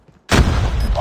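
Grenade blast in a multiplayer shooter game: after a brief near-silence, a sudden loud boom erupts and rumbles on with crackling debris, close and heavy, filling the rest of the moment.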